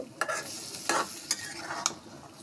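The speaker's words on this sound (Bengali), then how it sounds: "এখন আমি নাড়া দিয়ে একটু ডেকে দেব" Small river fish frying in a pan with onion greens, stirred with a few distinct scraping strokes over a soft continuous sizzle, close and low in level, with no voices.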